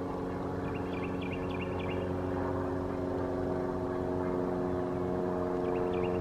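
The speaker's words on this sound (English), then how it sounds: "There's an airplane flying over." Low, steady drone of an airplane passing overhead at a distance, faint and continuous, with a few bird chirps above it.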